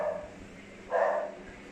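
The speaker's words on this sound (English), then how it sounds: "Sorry about the dog in the background." A dog barks once or twice, faint and somewhat distant, in the background of a house interior, with no talking.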